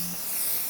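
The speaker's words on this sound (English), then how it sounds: "So I'm just going to spray this all over my face" A single short hiss of makeup setting spray misted onto a face, close and airy, lasting under a second with no talking.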